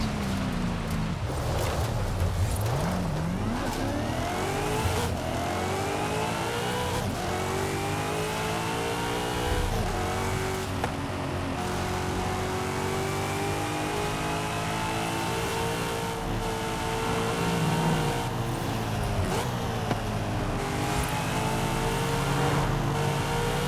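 A Corvette engine in Forza Horizon 5 roars continuously while driving off-road, revving up and down through gear changes, loud and close throughout with no talk.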